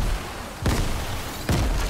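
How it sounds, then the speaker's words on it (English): A P90 submachine gun fires in a squads mode of a shooter game, heard as two loud, booming shots under a second apart, with no talking. "Why is P90 still shooting?"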